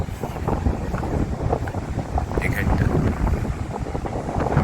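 Strong wind at a rocky beach roars and buffets the microphone in a continuous low rush, with faint voices partly buried beneath it.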